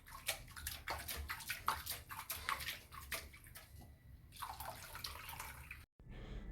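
Split black gram lentils with husk are washed in water by hand, giving quiet close sloshing, splashing and drips in uneven bursts, with a brief sharp cutoff near the end.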